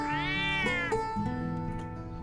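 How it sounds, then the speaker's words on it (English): A cat in an indie video game gives a long, drawn-out meow followed by lower, wavering mewing, close and clear with no talk. "Definitely a cat."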